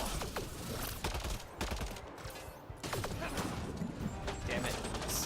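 Gunfire from a Mass Effect: Andromeda firefight crackles in loud, irregular bursts and volleys that overlap one another throughout. Someone talks over the shooting.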